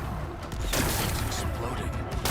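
Rocks being blasted apart by explosions in the video game Horizon, a dense, sustained rumble of booming blasts and crumbling debris, loud and continuous with a fresh surge near the end.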